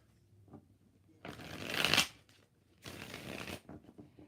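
Tarot cards are shuffled close by in two brisk riffling bursts separated by a short pause, quiet apart from the shuffling.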